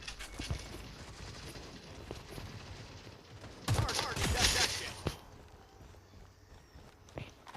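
Gunfire in the mobile shooter Modern Strike Online: scattered footstep-like taps, then a loud burst of rapid automatic fire lasting over a second, followed by a few sharp isolated shots.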